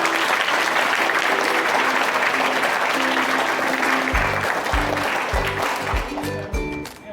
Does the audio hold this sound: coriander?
no